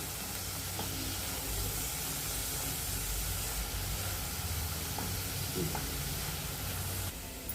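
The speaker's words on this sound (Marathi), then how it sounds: "तांबडं तिखट घालायचं, परत धने जिऱ्याची पावडर टाकायची आणि ही परतून घ्यायचं आहे चांगलं" Red chilli powder, coriander and cumin powder sizzling softly in hot oil for a paneer gravy, a steady low frying hiss with faint stirring, no talk.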